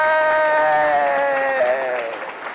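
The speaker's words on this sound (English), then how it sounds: "let's all give our new members a great round of applause for joining" A Unitarian Universalist congregation in Sarasota applauds new members, a sustained round of clapping from many hands with a sung or held tonal voice ringing over it, gradually thinning out.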